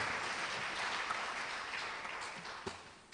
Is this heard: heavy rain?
no